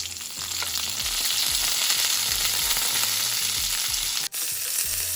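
Green chilies and curry leaves sizzle and crackle steadily in hot oil for an aloo kurma, a dense, loud frying hiss with small pops throughout and a brief dip near the end, no voices.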